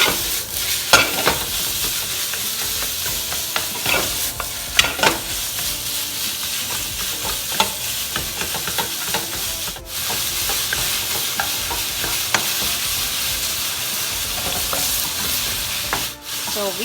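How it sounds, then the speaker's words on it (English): A whole package of pork stir-frying in a pan over medium heat: a constant loud sizzle broken by frequent scraping, rubbing strokes of a spatula, heard up close and alone. "stir until the pork almost cooked through."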